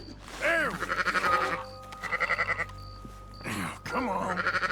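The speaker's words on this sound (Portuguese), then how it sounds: "Algumas ovelhas assustadas fugiram do aprisco e agora eu preciso trazê-las de volta" Frightened sheep in Red Dead Redemption 2 bleat in several drawn-out, wavering cries, loud and close, with short pauses between calls and a faint tonal game sound in the background.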